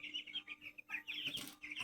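Chickens on a poultry farm cluck and chirp close by in quick, overlapping bursts, a busy flock chattering continuously with no voices.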